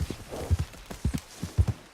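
Horse hooves in Red Dead Redemption II, a series of soft, uneven clopping thuds at close range, falling in loose pairs and clusters over a steady low background with no talk.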